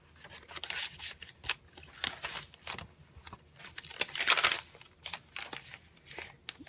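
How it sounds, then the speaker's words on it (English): Book page paper being glued down in a vintage Halloween junk journal, with soft, intermittent rubbing and crinkling strokes close by, quiet and irregular. "I just glued down some book page and 3 little circles that were in the digital kit."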